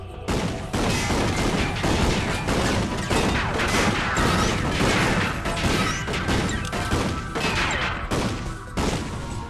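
Rapid repeated blasts of combustor guns in Ratchet & Clank, loud sustained firing with many sharp shots in a fast irregular rhythm over about nine seconds, with crashing impacts and brief pauses near the start and end.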